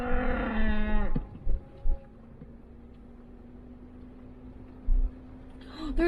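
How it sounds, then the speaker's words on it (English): A cow in a national forest in Wyoming gives a long, low moo up close, followed by quiet outdoor ambience with a steady engine hum and a few soft knocks. "There's a cow right there."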